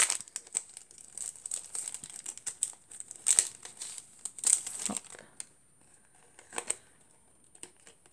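Crinkling paper wrapping being opened by hand to reveal a bookmark, with soft intermittent rustles and crackles close by at low volume, a few sharper crinkles standing out.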